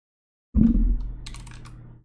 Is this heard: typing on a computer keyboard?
yes